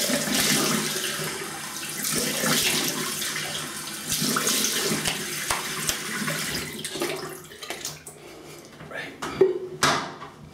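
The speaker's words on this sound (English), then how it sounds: "Quick rinse and cold water rinse" A tap runs into a sink for a quick rinse after a wet shave with a safety razor, water splashing steadily and close, with someone talking over it and brief knocks near the end.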